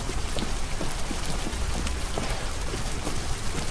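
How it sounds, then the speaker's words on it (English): Steady rain falls continuously in the video game Detroit: Become Human, a dense hiss of drops pattering on surfaces, fairly loud and with no voices. "It's even raining"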